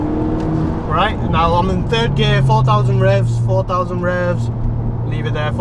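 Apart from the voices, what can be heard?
Audi S3 8P engine revving while accelerating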